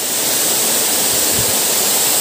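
Anayadikuthu waterfall near Thodupuzha pours in a loud, steady broadband roar of falling water close by, with no voices.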